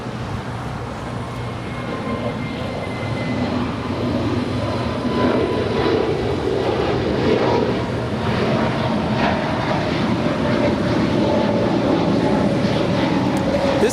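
A Viva Aerobus Airbus A320neo departs LAX for Monterrey, its engine roar building from a moderate rumble to a stronger, fuller sound midway and holding there, with no voices over it.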